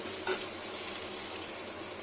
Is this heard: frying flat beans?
yes